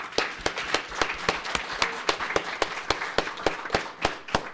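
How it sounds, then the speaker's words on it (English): A round of applause for a panel, though only a few hands clap: sharp, evenly spaced claps with a steady rhythm, fairly close, over a faint hiss of room noise. "if we can have a round of applause for all of them"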